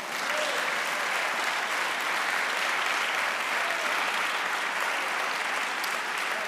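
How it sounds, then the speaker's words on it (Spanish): A church congregation applauds steadily and loudly during a sermon, continuous clapping filling the whole stretch without pause. "Dale un aplauso al Señor."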